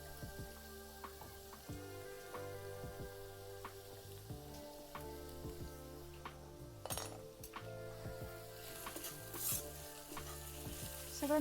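Foraged monsoon wild greens, salted, frying in a pan as they are stirred. A faint, even sizzle carries soft clinks of a spoon against the pan over low, steady background tones, with no speech.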